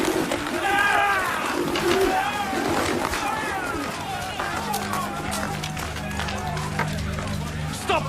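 Pigeons coo and flutter in a dramatized temple marketplace scene where pigeon sellers trade, the birds close and busy beneath voices and crowd sounds.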